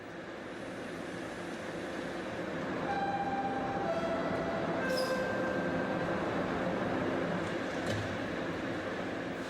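A subway train rumbles steadily at a busy transfer station, with metallic whines and faint squeals rising and falling, a busy underground hum with no voices.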